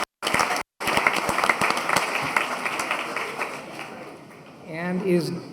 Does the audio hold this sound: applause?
yes